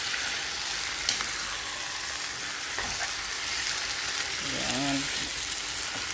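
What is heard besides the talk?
squid adobo with potato sautéing and stirred in pan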